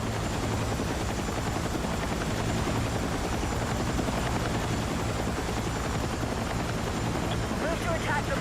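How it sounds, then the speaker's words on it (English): Helicopter rotor and engine drone steadily and loudly throughout a military video game flight, with gunfire-like crackle and a voice talking over it. "I haven't flown a helicopter in a hot minute."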